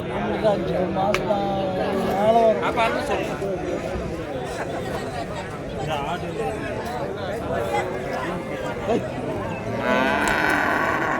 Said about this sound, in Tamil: நல்லா சைஸான கன்றுகள்லாம் இந்த இதில் இருக்குது